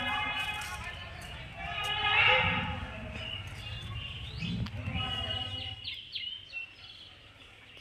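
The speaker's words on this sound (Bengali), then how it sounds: "কি সুন্দর পাখির আওয়াজ" Birds chirp and sing outdoors in a rural village setting, with bright, repeated calls at moderate distance throughout, a louder burst partway, under a steady low background of murmuring and movement.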